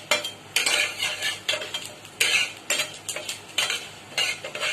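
Whole cinnamon and cloves stirred in hot oil for salna, a spoon clinking and scraping against the pan in repeated bursts with a faint sizzle beneath, close and alone.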